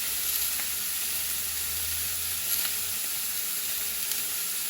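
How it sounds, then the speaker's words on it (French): Chunks of rhubarb cooking in a pan, a constant even hiss of sizzling with faint occasional pops, steady and unbroken throughout. "Je vais mettre cuire ma rhubarbe à côté là"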